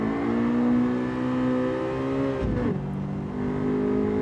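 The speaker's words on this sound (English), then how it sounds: "So we actually hear the engine." A Honda car's engine in the Gran Turismo 7 racing game drones steadily at high revs, with a brief dip and shift in pitch midway before it settles again, loud and continuous with no talking.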